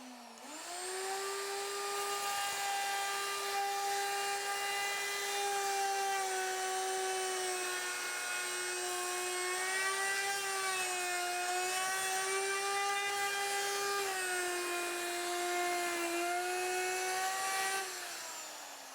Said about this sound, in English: I've attached a straight edge to our base, and that acts as the template, and I'm just going to route that edge